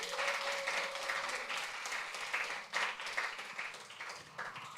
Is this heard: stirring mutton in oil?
no